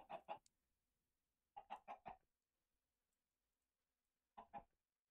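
Chicken clucking in the video game Minecraft: three short bursts of rapid clucks separated by silent gaps, clear and close, with no talking.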